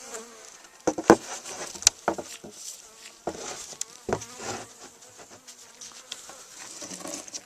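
Honey bees buzzing around an opened hive during a January inspection, close individual buzzes flying past with sharp clicks and taps from handling the hive, fairly loud and uneven, with no talking.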